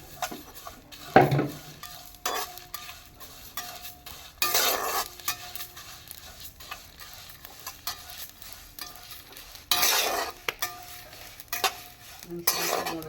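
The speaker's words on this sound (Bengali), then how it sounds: "আমি এই সবগুলো মশলা দিয়ে দিলাম একসঙ্গে।" Chillies and spices stir and sizzle in hot oil for a Kashmiri-style raw mango pickle, with a steady frying hiss, scraping spoon strokes and occasional louder clatters against the pan, close and without talk.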